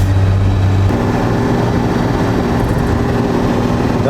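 Turbo diesel TD42 Nissan Patrol 4x4 fitted with a 3-inch straight-through exhaust drones steadily as it is revved up a hill, a loud continuous engine rumble heard from inside the vehicle.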